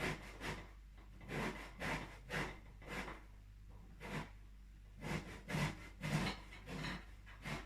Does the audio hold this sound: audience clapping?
no